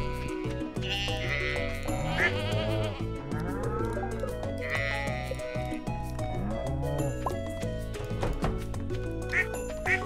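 Sheep bleating on a farm in the video game Stardew Valley, several bleats layered over steady background game music.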